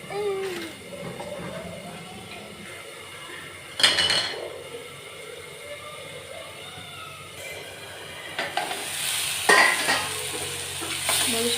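Tomato puree sautéing in hot oil for a masala bitter gourd dish gives a low, steady sizzle. A spoon stirs and scrapes the pan, with a few louder clinks and knocks, and there is no talking.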